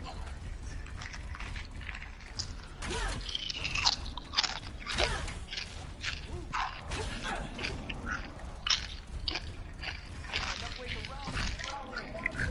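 Crunchy snacks being chewed close to the microphone during a live stream: repeated loud crunches and bites in an uneven rhythm, mixed with voices talking.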